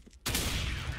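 A burst of rapid gunfire from a zombie-mode shooter video game, loud and close, erupting suddenly after a short quiet moment and sustaining as a dense volley.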